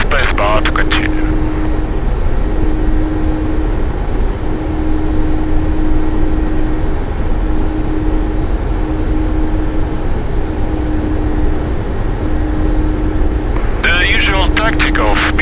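A Mi-24P Hind attack helicopter in the DCS World flight simulator drones steadily and loudly throughout, its rotor and turbine hum constant, with a brief burst of other game sound at the start and end.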